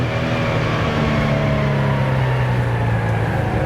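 A fully restored 1970 Porsche 914-6 engine droning loud and close during a heel-toe downshift, its steady tone sliding slightly in pitch with no voices over it.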